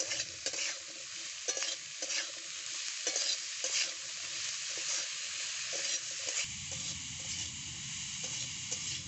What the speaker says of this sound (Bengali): স্বাদ মতো নুন ভালো করে মিশিয়ে নেবো